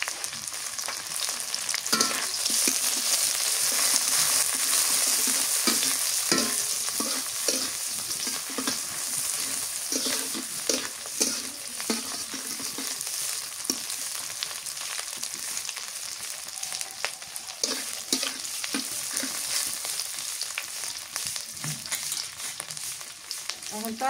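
Chopped onion frying in hot oil for bitter gourd shukto, a continuous loud sizzle with intermittent scraping of a spatula stirring the pan.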